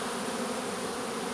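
A swarm of honeybees issuing in July, with a steady dense buzzing that fills the whole moment, close and even, with no voices.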